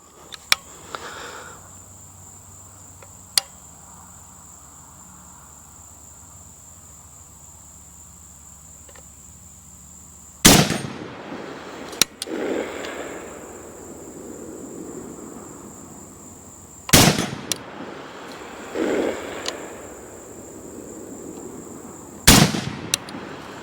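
A Zastava Arms ZPAP85 fires outdoors at an 8-inch steel plate: three sharp, loud reports spaced several seconds apart, each trailing off in echo, over a steady chorus of crickets.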